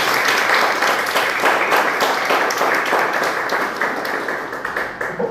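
A church congregation breaks into sustained applause at a Portuguese-language service, many hands clapping loudly and evenly before the sound thins slightly toward the end.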